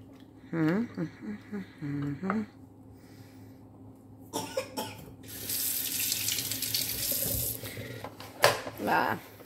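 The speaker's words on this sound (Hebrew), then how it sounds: "ופשוט להוסיף את המים אל תוך המחמצת, כאילו אל תוך הכלי" Water running from a tap and splashing into a sourdough starter container in a home kitchen, a loud hissing stream for a few seconds, preceded by someone speaking and a cough, with brief talk resuming afterward.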